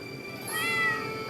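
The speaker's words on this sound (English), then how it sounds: "You see this cat here?" A cartoonish cat meow from the video game Stardew Valley, a single drawn-out, rising-and-falling call heard clearly over a steady background music bed.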